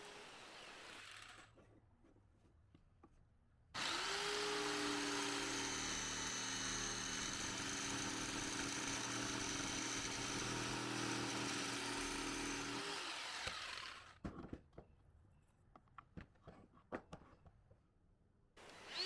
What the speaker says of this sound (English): connecting those holes using a jigsaw